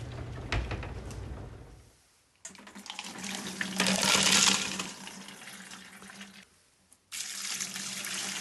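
Tumbled Leland Blue slag glass is rinsed under a running tap, a steady rushing splash in a sink that stops briefly, comes back stronger, then cuts off and restarts, close by and with no talking.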